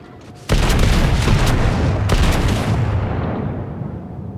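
Heavy battleship guns in World of Warships, fired from a Colorado, loud opening salvo boom at half a second followed by a long rumbling roar, with a second report partway through, alone without talk.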